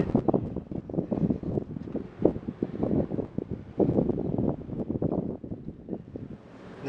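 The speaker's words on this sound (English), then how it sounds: "wind's picking up here, so I'm sure you're hearing the buffeting." Strong wind buffets the microphone outdoors beside a 1979 Mercury Cougar XR-7, a loud continuous rumbling roar with gusty surges throughout.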